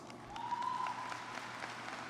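Audience applause at a high school graduation ceremony welcoming a guest: a faint, steady patter of clapping from a seated crowd, heard at a distance in a large room, with a thin tone briefly present.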